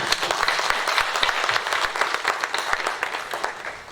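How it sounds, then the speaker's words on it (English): An audience at a World Tourism Day celebration applauds the minister, a dense, loud round of clapping from a crowd that tapers slightly at the end. "I want us to give another round of applause"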